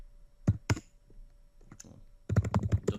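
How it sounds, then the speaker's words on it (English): A command is typed on a computer keyboard: a couple of crisp key taps, a pause, then a quick run of clicking keystrokes close up, with no speech. "I can just type .NET build"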